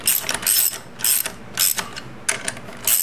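Ratchet snugging final drive bolts on a 2002 BMW K1200RS motorcycle, close rapid clicking in six short bursts at an even, regular pace.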